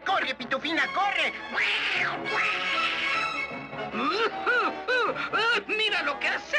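The cartoon cat Azrael meows and yowls in a rapid series of loud, wavering cries, mixed with excited cartoon voices and background music.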